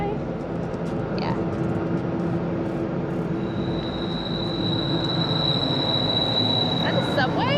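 A train rolls past in a city, its steady low rumble filling the scene with a long high-pitched wheel squeal rising in the second half; people speak briefly over it.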